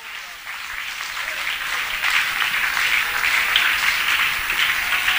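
Church congregation clapping for Jesus, a dense steady wash of many hands that swells slightly after the first half-second and holds loud and continuous to the end.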